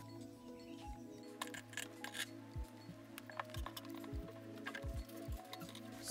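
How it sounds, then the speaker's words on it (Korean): Scissors cutting through a cotton shirt sleeve, a series of soft crisp snips and blade clicks spaced irregularly over a steady low hum, fairly close and quiet. "소매를 완성선에 따라 잘라 주세요"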